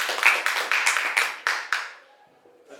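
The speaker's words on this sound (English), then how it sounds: "Get applause for this group." A small group of students claps briefly in a classroom, about eight sharp claps in a loose rhythm, fading out after a couple of seconds.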